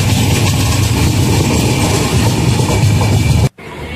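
Garib Rath Express passenger train running on the Puri to Yeswantpur route, a steady loud rumble of wheels and engine heard from inside, continuous and dense before cutting off abruptly near the end.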